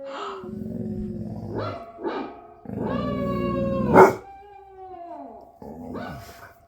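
Several cartoon dogs in the animated film 101 Dalmatians bark in short bursts and then break into a long, drawn-out howl, fairly close and moderately loud.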